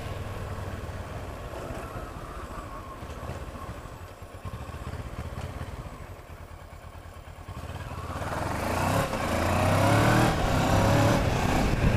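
A Kawasaki Versys 650 motorcycle on a test ride, its engine drone mixed with heavy wind rush, swelling louder and rougher toward the end as the bike speeds up.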